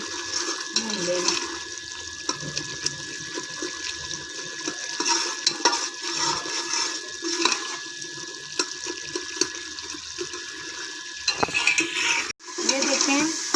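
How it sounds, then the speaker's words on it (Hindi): Green beans and masala stirred and frying in a pot for an aloo phali sabzi, a steady broadband sizzle with scraping stirs throughout, ending in a brief gap and a burst of noise. "सब्ज़ी को भी अच्छी तरह थोड़ा सा हमने भून लेना।"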